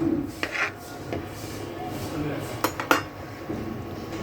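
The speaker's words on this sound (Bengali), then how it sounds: "এবং দিয়ে দেব সামান্য একটু পরিমাণ টেস্টি সল্ট দিয়ে ভালো করে নেড়ে দিলাম।" Khichuri in a pot being stirred with a spoon after salt goes in, giving scattered scraping and clinking knocks against the metal over a low steady background.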